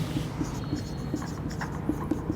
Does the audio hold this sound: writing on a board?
yes